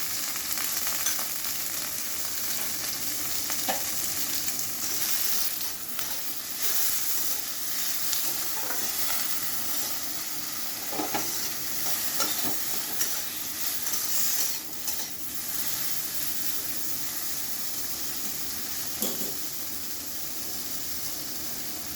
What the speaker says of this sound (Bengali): একটু ভাজা ভাজা করে নিই